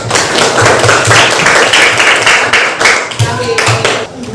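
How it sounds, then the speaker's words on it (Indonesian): Loud, close clapping in a room as a group claps together at the end of a teaching session on differentiated learning, with voices mixed into the noise. "Oke, tepuk tangan dulu."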